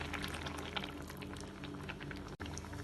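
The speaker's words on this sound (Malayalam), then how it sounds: "ഇതിലേക്ക് മിക്സിയിൽ അരച്ചെടുത്ത് ചേർക്കാം." Ground paste from a mixer jar goes into simmering tomato kurma, giving a steady, close, low bubbling and wet gloopy texture throughout, with no voices.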